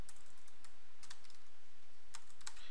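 Computer keyboard typing in irregular bursts of quick clicks with short pauses, close and clear, while entering code for an HTML5 form.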